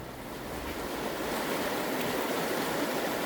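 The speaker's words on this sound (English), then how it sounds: "We are headed up Waterfall Creek. That's on the right here, Waterfall Creek." Waterfall Creek rushes beside a backpacking trail toward the falls on the way to Pinto Lake, a steady broadband wash of flowing water with some wind, continuous and even, with no talking.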